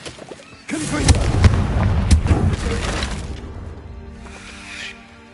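Confringo fire spell blasting in Hogwarts Legacy: a sudden loud booming burst with crackling debris, rumbling for a couple of seconds before fading into quieter ambience and a faint later swell.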